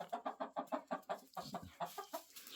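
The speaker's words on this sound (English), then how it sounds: "All Annie cares about is what protein have I given these chickens" Chickens cluck in a rapid, rhythmic series of short calls, close and fairly quiet, continuing steadily without any talking.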